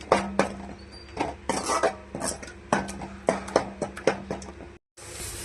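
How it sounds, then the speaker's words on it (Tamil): Ground tomato is sautéed in a pan for fish kulambu, with a spatula scraping and clinking against the pan in quick irregular strokes over a low sizzle, followed by a brief silence at the end. "தக்காளி பச்சை வாசனை போகிற வரையிலும் வதக்கிக்கலாங்க."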